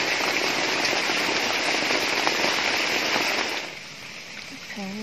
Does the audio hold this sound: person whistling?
no